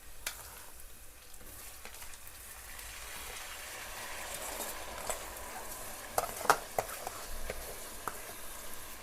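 Washed rice is tipped into a pan of fried onions and stirred, giving a steady close sizzle broken by scraping spoon strokes and a few sharp clinks near the end, with no talking.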